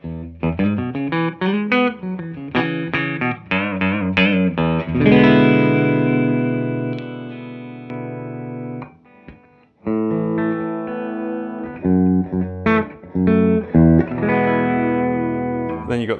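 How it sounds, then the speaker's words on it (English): A Fender Player Series electric guitar is played clean on its neck pickup: quick plucked runs, then long ringing chords with a wash of reverb, then more picked phrases, close and clear with no talking. "So I'm going to start off on the neck pickup, just clean again"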